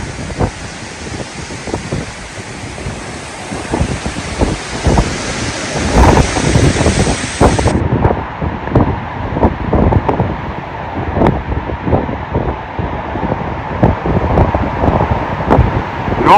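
Loud, continuous supercell storm noise at Lake Chiemsee, Bavaria, with wind buffeting and rushing rain, punctuated by repeated gusty thumps against the microphone; no one speaks.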